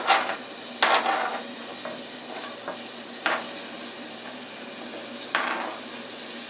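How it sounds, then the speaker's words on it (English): Steady sizzling of ham frying in margarine in a hot pan, with occasional clinks and scrapes of a utensil stirring, no voices. "I have some margarine in the frying pan."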